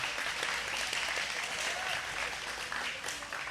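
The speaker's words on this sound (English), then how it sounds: "Clap it up." Steady applause from an audience at a live grappling event, a broad continuous wash of clapping that holds at an even level for several seconds with no voices standing out.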